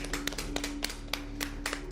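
Scattered hand clapping from a small group, a dozen or so sharp uneven claps spread over a couple of seconds, fairly faint against a low steady hum.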